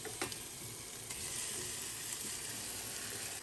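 Mangoes dropped into a hot pan for a mango habanero sauce give a steady, fairly quiet sizzle that holds evenly throughout, with a few faint stirring clicks near the start.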